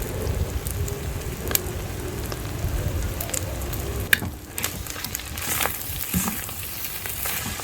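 Salted, precooked basmati rice is mixed in a hot pan for egg and prawn fried rice. A continuous close sizzle carries repeated scraping and tossing, with a sharp clack midway and livelier crackling toward the end.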